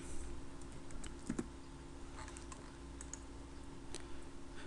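Computer keyboard keys pressed during Photoshop editing, including a Shift+F5 shortcut: a few soft, quiet clicks spaced apart over a low, steady background hum.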